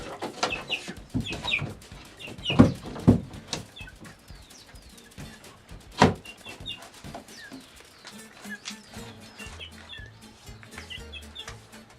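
Chickens cluck and squawk nearby in a coop in scattered bursts, with clanks and shuffling noises from feeders mixed in, no voices.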